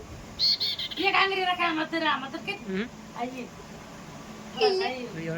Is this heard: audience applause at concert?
no